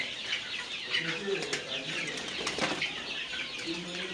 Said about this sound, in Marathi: हे ओरिजिनल गावठी कोंबड्याची ही जवळजवळ 3 महिन्याची पिल्लं होत आलेली आहेत.